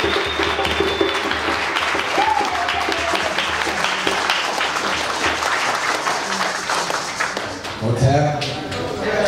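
An audience applauds a speaker with dense, continuous clapping that fills the whole stretch. Voices and cheers mix in, and someone starts talking near the end.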